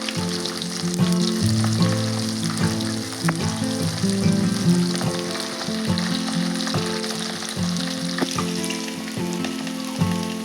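Ivy gourd pakodi frying in hot oil, a loud close crackling sizzle that swells and eases as pieces are turned with scattered scraping taps, no talking.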